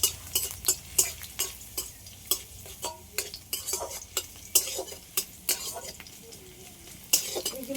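Chopped garlic and ginger frying in hot oil, giving a soft steady sizzle under sharp, repeated clinks of a metal spoon stirring against the pan, close and fairly busy.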